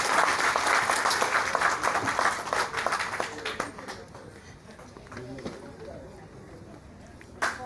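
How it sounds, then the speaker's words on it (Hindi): A crowd gives loud applause at a welcome ceremony, steady dense clapping that thins out and fades to scattered claps after a few seconds, with voices faintly underneath. "जोरदार तालियां बजाएं"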